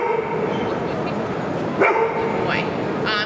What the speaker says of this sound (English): we also teach our dogs to bark on command